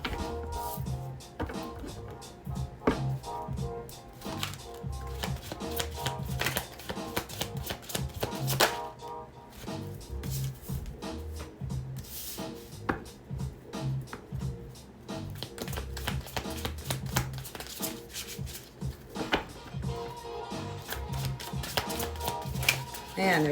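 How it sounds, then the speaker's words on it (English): Tarot cards shuffled and pulled from a deck during a collective reading, giving dense, steady clicking and riffling close by, with soft handling taps and occasional louder snaps throughout. "And then we just keep pulling cards from here."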